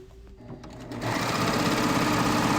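A sewing machine stitching a fabric face mask starts up after a few faint clicks and then runs in a steady, fast, loud mechanical whir, close by with no talking.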